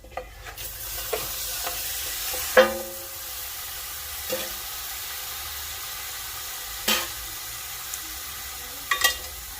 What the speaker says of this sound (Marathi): आणि मस्त असं मिक्स करून घेणार आहोत म्हणजे तुकड्यांना जो मसाला आहे तो छान प्रकारे लागेल